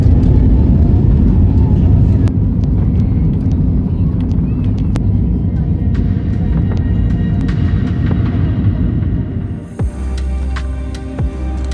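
A TAP Air Portugal airliner takes off from Lisbon, heard from inside the cabin as a loud, continuous low engine roar that shifts and eases near the end.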